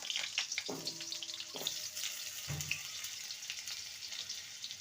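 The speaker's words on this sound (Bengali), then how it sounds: "এবার আলুর টুকরোগুলো ভেজে নেব ওই তেলেই ভেজে নেব" Potato pieces frying in oil left over from ridge gourd fritters, with no extra oil added: a steady, moderately loud crackling sizzle throughout, broken by a few soft stirring knocks.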